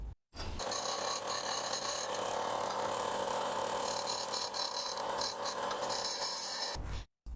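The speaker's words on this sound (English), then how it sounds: "what I did first was remove the burr from the entire rod" A file rasping the burr off a threaded rod for DIY rollers, a loud, continuous close scraping for several seconds that starts and stops abruptly, with no talking.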